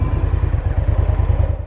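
Indian Scout Bobber Twenty motorcycle pulling away, its V-twin engine giving a close, loud, pulsing low throb in rapid even beats.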